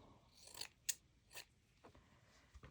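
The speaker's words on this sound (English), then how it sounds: "So let me just trim a bit of the netting." A few crisp snips of scissors trimming a piece of craft netting, spaced irregularly and close but quiet, with no talking.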